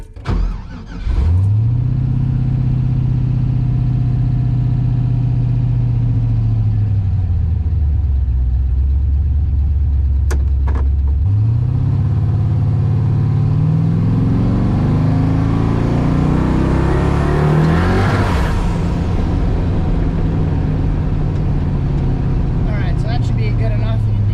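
Car fitted with a Holley Terminator X system and V3 traction control accelerating hard: a loud, close engine drone rises steadily in pitch, eases briefly, then climbs again through repeated gear pulls, continuous for over twenty seconds.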